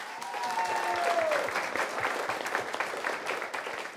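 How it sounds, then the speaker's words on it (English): Studio audience applause on a panel show, steady and fairly loud clapping throughout, with a brief tonal whistle-like sweep early on and no talk. "a round of applause for both Duncan and Jay Glam."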